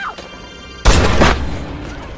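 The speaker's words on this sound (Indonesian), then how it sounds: "Namun untungnya Sylvia dengan sigap langsung menembak Thomas." A gunshot in a film scene, a single sudden loud blast followed by a roaring, decaying rumble that fills the remainder of the moment, heard alone without talk.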